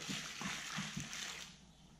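Water and starter fertilizer mix being poured and splashing into a container for filling grow-bag pots, a soft close sloshing with a few quick splashes that trail off.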